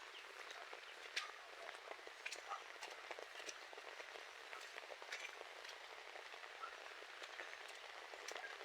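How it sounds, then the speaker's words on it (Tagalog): Steady rain patters continuously, a dense hiss with scattered sharper drops, fairly faint and even throughout with no voices. "Napansin niyo mga kabrad ang ulan"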